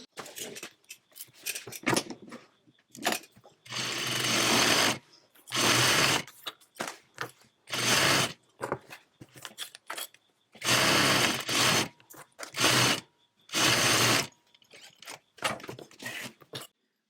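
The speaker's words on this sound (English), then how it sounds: "Then I'm going to go to my sewing machine" A sewing machine stitching through three fabric layers runs in repeated bursts of a second or two, separated by short pauses, close and clear.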